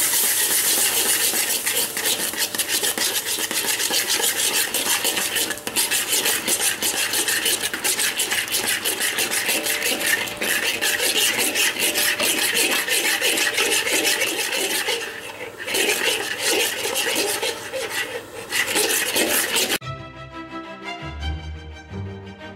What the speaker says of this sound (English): After the flour and butter are mixed, we're going to add in the skim milk.